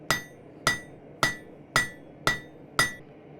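A hammer peen strikes hot metal while drawing out a forged leaf, six sharp ringing blows evenly spaced about half a second apart, each decaying quickly, close with no speech.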